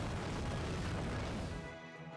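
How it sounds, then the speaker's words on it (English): Cannon fire in the video game Falsebound Kingdom: a dense, sustained booming roar fills the clip at steady loudness, then quickly thins out and fades near the end, with no voices. "You gotta get somebody to go get shot by the cannons."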